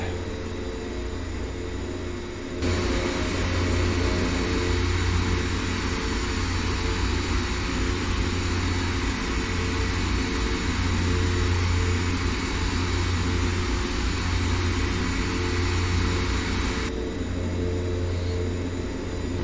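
A DHC-6 Twin Otter in X-Plane 11 taxiing toward the runway, with a steady droning turboprop engine hum and whine that stays loud and continuous throughout.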